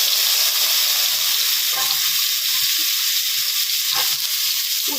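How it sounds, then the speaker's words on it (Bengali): Fish fries in hot oil in a pan, giving a loud, steady, close sizzle with a few faint clinks underneath, and no voices. "তো এদিকে মাছটা ভাজতে দিয়ে দিলাম"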